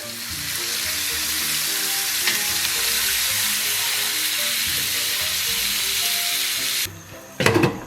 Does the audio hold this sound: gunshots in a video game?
no